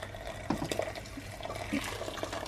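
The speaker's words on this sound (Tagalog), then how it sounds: "So ilagyan natin ng tubig." Warm water poured into a pot of split pea soup with sausage, a steady running splash with a few gurgles, close by and with no talk.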